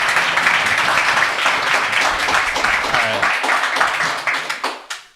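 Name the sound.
audience applause at a meetup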